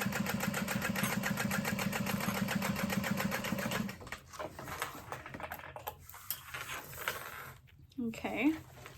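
A sewing machine runs in a steady rapid stitching rhythm for about four seconds while seaming right beside a backpack zipper and lining, then stops, leaving quiet handling noises and a few soft clicks.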